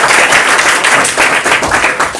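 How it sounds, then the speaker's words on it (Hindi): Students clap for the girls' team during a classroom quiz, a dense, loud and continuous burst of applause. "गर्ल्स लोगों के लिए ताली भी आप लोग बजा सकते हैं।"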